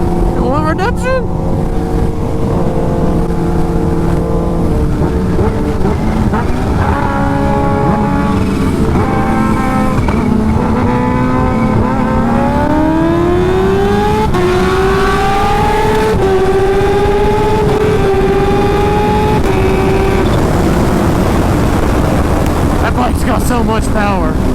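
Kawasaki Ninja H2 motorcycles race at full throttle, a loud engine whine climbing in pitch through rapid gear changes, with heavy wind buffeting throughout.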